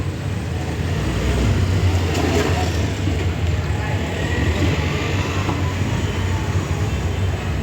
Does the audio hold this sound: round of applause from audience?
no